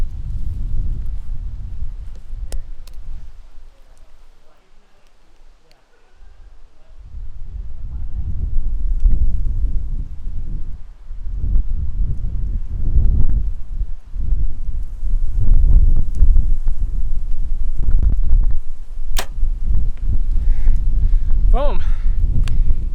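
Strong crosswind at an outdoor archery course in Snowbasin, Utah, buffets the microphone as a heavy low roar that swells and drops over about twenty seconds, with rustling and faint talk.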